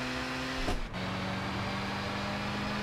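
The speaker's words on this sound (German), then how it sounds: "So, jetzt geben wir ein bisschen Gas." A car in the Gran Turismo 6 racing game on a night event, its engine dropping to a steady low drone after a brief gap, then holding an even, continuous hum at moderate level with no talk over it.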